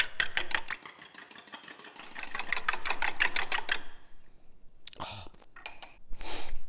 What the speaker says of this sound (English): And now we whisk.